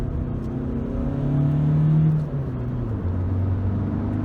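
A VW Caddy 2.0 TDI 185 hp van accelerates along a coastal road, its diesel engine note rising steadily under constant road and cabin noise, heard from inside with no talking.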